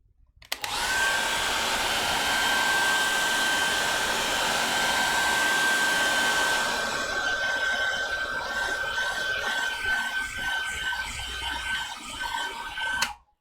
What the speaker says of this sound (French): petit coup de sèche-cheveux encore.